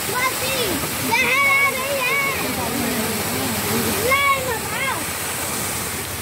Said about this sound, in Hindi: आप लोग देख ही रहे हैं ये पानी कितना सारा आ रहा है।